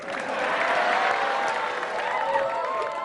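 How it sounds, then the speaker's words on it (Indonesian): Applause from the crowd at a stand-up comedy show, a sustained broad patter of clapping with light chatter and faint voices threading through it, holding steady and easing slightly toward the end. "Sekali lagi tepuk tangan buat saya."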